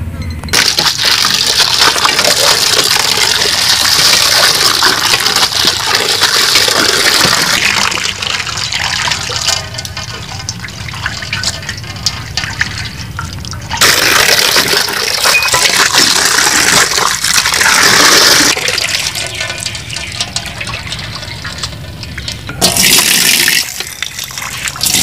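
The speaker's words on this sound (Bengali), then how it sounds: "এবার আমি লাউ শাক আর চিংড়ি মাছটা ধুয়ে নিব।" Prawns and bottle gourd leaves are washed under water in a kitchen. A loud, steady rush of running water with clinks and splashes continues throughout, dipping briefly in a few places, with no talk.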